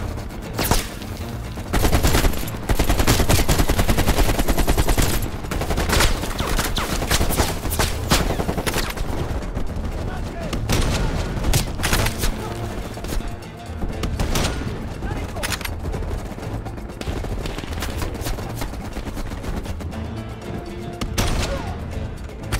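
Machine gun fire in the video game Call of Duty: Black Ops Cold War comes in loud, dense bursts and continuous volleys mixed with explosions and battle noise, while voices talk over the fighting.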